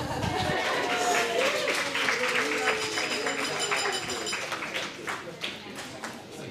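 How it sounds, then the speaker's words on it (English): Wedding guests clap at a reception during the cake cutting, a scattered, moderate round of applause from a room full of people, with voices and chatter mixed in. "Everybody clap."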